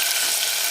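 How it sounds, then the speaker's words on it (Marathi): Chopped medium onion with two dried red chilies sautéing in a hot pan, giving a steady, close, bright sizzle that holds evenly through the short moment, with no voices. "थोडासा फक्त 1 मिनिटभर परतून घ्यायचं आहे"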